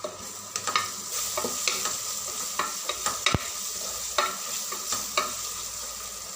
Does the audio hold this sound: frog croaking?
no